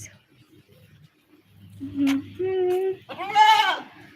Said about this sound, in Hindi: बकरा है देखो, मेरे को मार रहा है।